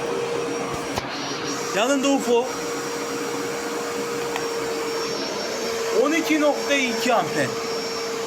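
An electric vacuum cleaner runs steadily throughout with a constant motor whine and broadband whoosh, while someone speaks over it in two stretches.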